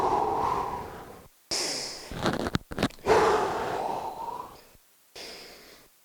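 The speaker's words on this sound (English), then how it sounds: "control your breathing in through your nose," Controlled breaths drawn in through the nose and pushed out through the mouth during a core workout, close and fairly faint, several separate inhales and exhales with short silent gaps.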